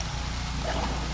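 Water pours steadily during a waterboarding scene in the video game GTA 5, a close, continuous splashing gush with no talk over it.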